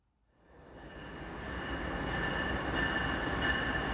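A train sound effect builds from silence into a steady rumbling roll of wheels on track, rising in loudness and holding as a continuous broad rumble with a faint high whine.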